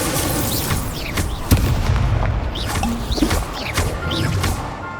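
A fire spell cast in the video game Hogwarts Legacy: loud, repeated fiery whooshes and booming bursts, with one sharp impact near the middle, over continuous game-combat clatter and music.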